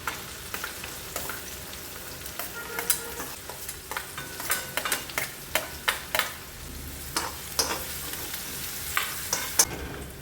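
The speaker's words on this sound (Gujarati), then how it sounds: "ડુંગળી એડ કરી દઈશું." Onions fry in a pan with garlic and chillies, a constant close sizzle broken by frequent rhythmic scrapes and clacks of a spoon stirring, with no one talking.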